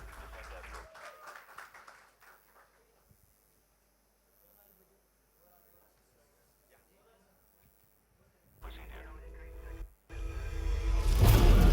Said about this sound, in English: with a huge round of applause and a warm heart, please welcome Mr. Ajay Devgn.